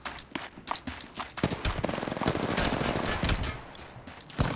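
Rapid gunfire from a rival squad in Apex Legends Mobile rattles on almost nonstop, dense overlapping automatic bursts and single loud shots close by, with no talking.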